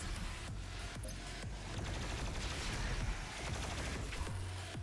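Dense, continuous gunfire fills Doom Eternal combat, rapid overlapping blasts and shots with booming low impacts, loud and close throughout with no talking.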